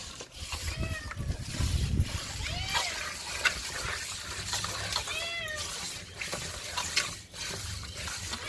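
A cat meows repeatedly in a kitchen, several rising-and-falling cries spread through the scene over running water and clattering, with people talking faintly in the background.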